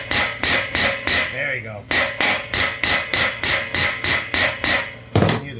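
A part on a Sears Craftsman LT 2000 riding mower with a 46-inch cutting deck is driven with a hammer: about fifteen loud, ringing metal blows in a steady, even rhythm, close by, with brief talk near the end.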